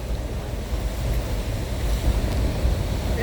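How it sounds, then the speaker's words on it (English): Steady, rushing wind roars loudly across the microphone, a dense low rumble with no pauses. "Really? It's windy"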